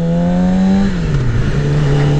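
Yamaha R6 motorcycle fitted with an SC Project slip-on exhaust and a race filter, its engine droning steadily close by, the pitch briefly dipping mid-clip before settling at an even idle-like hum.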